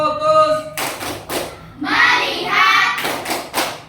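Students in a classroom perform a rhythmic clapping routine, sharp hand claps landing in a quick patterned sequence with voices chanting along between the beats.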